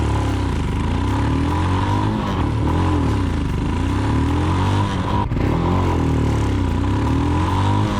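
A Royal Enfield Himalayan motorcycle fitted with a PoweRage aftermarket exhaust runs close by, a loud, deep, pulsing engine note that swells and dips with a sharp break near the end.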